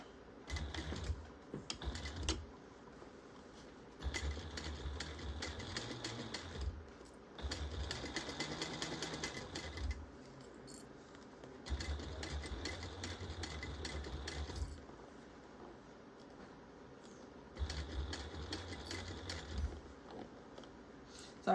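A sewing machine stitching the seam of a bag at a 3/8 inch allowance runs in several bursts of rapid, even needle chatter, each lasting a few seconds and separated by brief quiet pauses.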